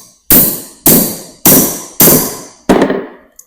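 A hammer strikes a cheap lug crimper down onto battery cable: five loud, sharp metallic blows spaced about half a second apart, each ringing briefly, followed by a small light tap.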